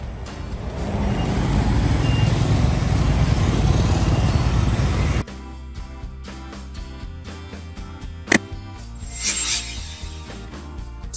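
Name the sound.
electric bus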